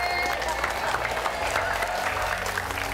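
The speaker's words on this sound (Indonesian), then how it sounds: "boleh tepuk tangan" A small group claps for a mother, quiet, scattered applause, with a low hum and other background sound underneath the whole time.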